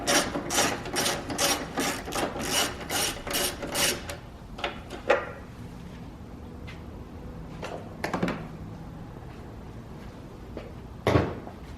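A ratchet wrench clicks rapidly through about a dozen strokes loosening a size 12 bolt on a Kia Forte headlight, followed by quieter tool clinks and a sharp metallic knock near the end.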